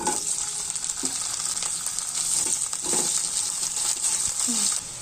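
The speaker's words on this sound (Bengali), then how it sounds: "একটু সময় নাড়াচাড়া করে আমি এর ভেতরে আমরা টুকরোগুলো দিয়ে দিচ্ছি" Pieces of amra, hog plum, fry in oil with whole mustard seeds, giving a constant bright sizzle, while a spatula stirs through them with soft scrapes and occasional taps on the pan.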